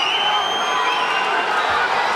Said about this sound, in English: The South Dakota crowd cheering on Dolan's Bryce Logan